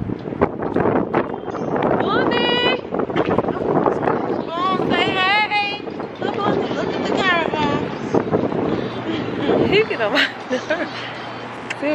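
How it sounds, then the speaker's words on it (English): Strong wind buffets and rumbles against the microphone outdoors in Chicago while people talk and shout over it. "Y'all, it's so windy."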